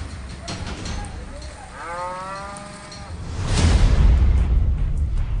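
Cattle and buffalo tethered at a rural health sub-centre in Sehore, Madhya Pradesh; a single drawn-out moo sounds mid-distance, followed by a louder rumbling burst of low noise.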